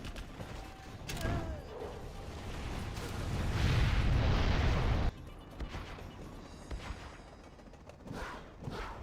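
Explosive charge detonating against a tunnel in a multiplayer military shooter, a loud rumbling boom swelling over a few seconds and cutting off sharply, followed by scattered distant gunfire and mechanical clatter.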